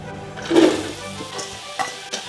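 Onions sweat in a thin layer of hot olive oil while a utensil stirs them, a soft sizzle with a louder swirl of movement early on and a couple of brief scrapes afterward.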